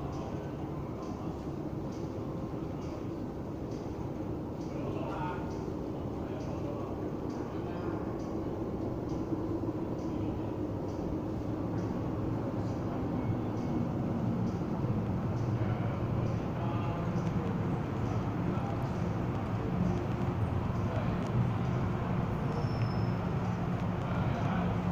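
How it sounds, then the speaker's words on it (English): An MTR Island Line M-Train pulls into a Hong Kong underground station with a steady low rumble that slowly swells, and faint voices murmur in the background. "The train to Taiwan is arriving."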